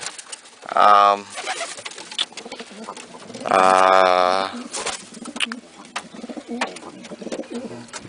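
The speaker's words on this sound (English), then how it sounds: "I did not yet have all the pigeons in" Pigeons coo in a loft, two loud, drawn-out tonal coos standing out close by, with fainter cooing and rustling between them and a person talking softly in the background.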